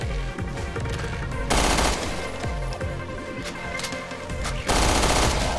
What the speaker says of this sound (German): Die Uzi gefällt mir richtig gut, aber ist gleich leer.